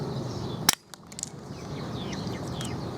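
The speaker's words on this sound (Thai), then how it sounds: "มันเป็นปืน ยิงสปริงนะครับ" A toy spring-powered cartoon gun fires once with a sharp, close snap, followed by a softer click or two as the mechanism settles, then quiet room noise.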